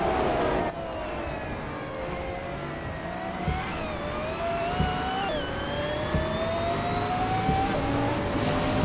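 Race cars in a racing video game, led by a 2009 Pagani Zonda R on the Daimler Test Strecke, engines roaring loud and continuous as the pack pulls away from the start, pitch climbing through gear shifts.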